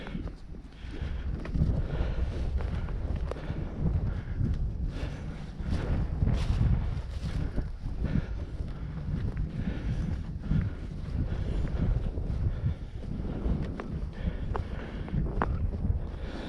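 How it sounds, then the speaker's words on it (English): Steady wind roars and buffets the microphone throughout on Mount Rogers, a continuous low rumble with gusty swells and no voices. "It's windy and already chilly."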